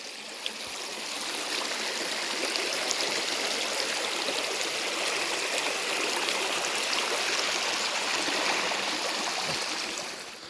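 Water flows steadily in a stream, a continuous soft rushing and trickling that stays even and fairly quiet throughout, with no voices.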